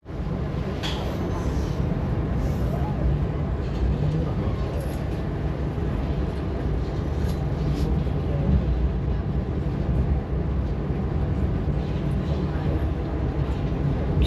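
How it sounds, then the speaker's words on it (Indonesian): An Ambarawa Express passenger train runs along, heard as a deep, steady rumble and rattle that stays constant and close for the whole stretch, with faint higher clicks over the low roar. "kereta api Ambarawa Express berhenti di stasiun Rombo"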